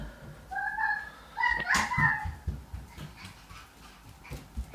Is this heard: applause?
no